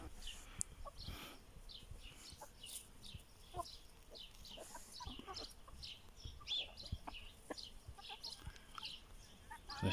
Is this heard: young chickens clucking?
yes